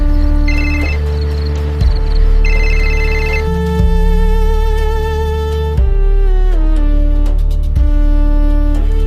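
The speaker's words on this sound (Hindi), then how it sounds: "चलो, अब मैं भी प्रिया को एक बार फोन लगाता हूं।" A phone ringtone plays while a call is placed, a loud repeating electronic melody of bright tones changing pitch in steps, continuing for several seconds with no talk.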